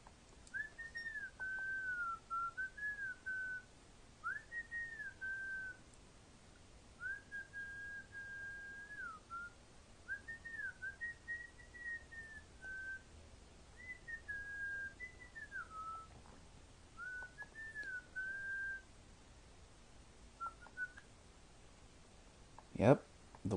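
A series of wavering, tune-like whistled phrases drifts past a house at 3:03 AM, fairly faint and steady in a quiet night, each phrase bending up and down, ending with a sharp click.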